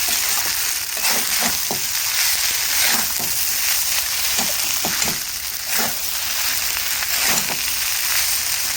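Aloo poha being stirred in a pan after chopped coriander leaves go in, a steady soft sizzle with scattered scraping strokes of the spoon, close and continuous with no talking.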